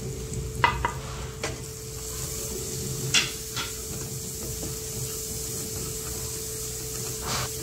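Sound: spices sizzling as they are stir-fried in a pan

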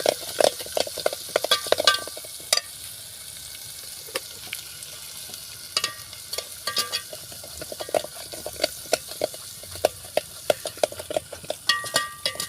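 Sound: masala frying in a pan with turmeric, chili and salt

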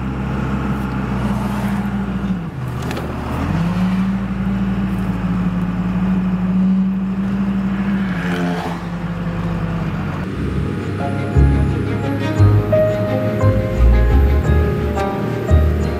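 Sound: truck camper driving slowly on the road

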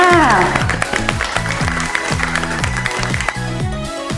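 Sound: children clapping for themselves in class

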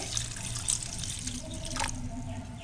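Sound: water poured onto tamarind and tomatoes for rasam

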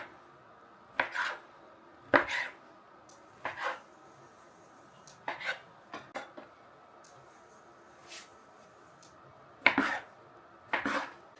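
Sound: knife cutting strudel dough into pieces on board

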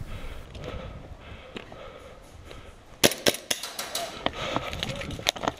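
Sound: airsoft pistol shot

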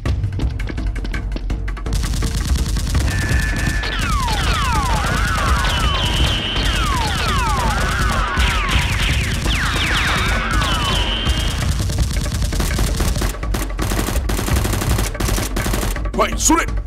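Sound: Nerf guns firing in a toy gun fight

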